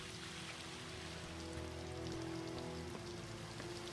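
Steady dripping and trickling sewer water in an underground lair in the Spider-Man PS4 game, a dense, continuous patter with a low electrical hum underneath and no talk.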